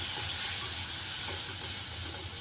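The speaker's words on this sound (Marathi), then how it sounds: "बटर मस्त मेल्ट झालं" Butter melting in hot oil in a pan for cream of broccoli soup, a steady, hissing sizzle that holds evenly and fades slightly, close and alone without talk.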